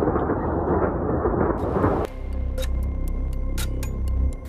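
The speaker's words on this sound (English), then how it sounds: "heavy shelling" Heavy shelling in Kyiv during the war: a dense rumbling roar cuts off abruptly, followed by a quieter low rumble with sharp crackling bursts and ticks, no voices.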